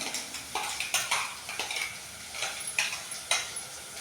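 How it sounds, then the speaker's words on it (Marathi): Tomato and onion puree sautéed in oil over a low flame for chhole, heard as a soft steady sizzle broken by repeated clinks and scrapes of a metal spoon against the pan, close by with no talking. "त्यानंतर आपण ही प्युरी एकदा टोमॅटो आणि कांद्याची तेलामध्ये परतवून घेऊया"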